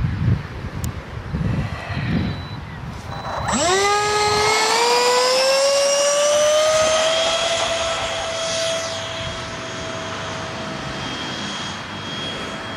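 An F-15 jet engine whine climbs steeply in pitch, then holds as a loud, steady, near tone, with wind noise beneath.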